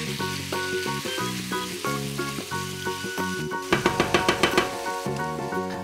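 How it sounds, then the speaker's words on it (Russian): Steady sizzling of onion and pork secreto frying in a pan under prominent background music with a rhythmic beat. "Пора и лук добавить, пусть тоже начинает обжариваться"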